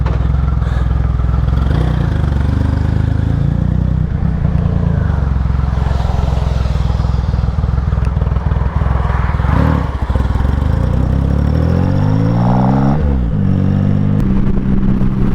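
Motorcycle ridden through wet Friday-morning rush-hour traffic with low visibility, its engine droning steadily and loud throughout, with gear changes and rising revs near the end alongside passing traffic noise.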